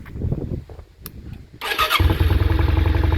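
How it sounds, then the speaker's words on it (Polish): A 2003 Yamaha XV 535 Virago motorcycle cranks briefly, fires up and settles into a loud, close, pulsing V-twin idle. "Odpalimy, pokażemy jak to chodzi."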